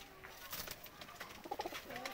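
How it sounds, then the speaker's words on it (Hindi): Soft pigeon coos rise briefly near the end of a short stretch of faint, noisy outdoor background. "ये मुकम्मल कबूतर है"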